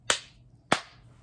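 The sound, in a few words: hand claps in Bingo song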